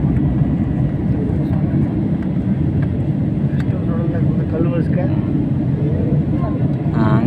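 An airplane leaving Ayodhya roars steadily as heard from inside the cabin, a loud, constant low engine rumble. Voices talk over it through much of the clip.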